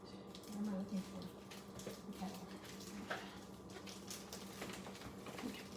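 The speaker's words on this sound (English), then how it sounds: "Hot water going in here" Hot water from a kettle pours into a refrigerator during a deep cleaning, a soft, steady splashing and trickling heard faintly and close, mixed with low background hum.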